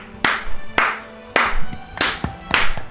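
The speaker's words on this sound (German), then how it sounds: "Ist das nicht ein Applaus wert?" A handful of sharp, separate claps ring out at uneven intervals, about five or six distinct hand claps close by, sounding like one or two people clapping rather than a crowd.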